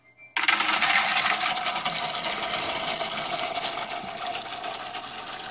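Wet pumpkin seeds poured out of water, a sudden steady rushing, rattling stream that starts abruptly and continues evenly at close range without talk.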